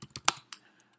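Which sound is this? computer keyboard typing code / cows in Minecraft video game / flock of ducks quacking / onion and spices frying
computer keyboard typing code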